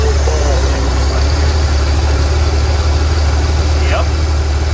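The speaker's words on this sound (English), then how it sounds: "Seems to be idling pretty smooth." A Corvair Corsa engine idles smoothly and steadily, a loud low rumble continuing throughout without change in pace, with faint background noise above it.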